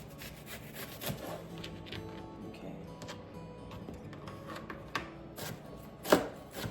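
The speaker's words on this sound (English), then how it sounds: "I'm gonna go ahead and chop some onion" Onion being chopped with a knife on a board in a home kitchen, with irregular soft taps and a sharper knock near the end, fairly faint.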